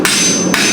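Two sharp ringing hammer strikes on hot steel as a blacksmith forges a hook, close and loud, about half a second apart.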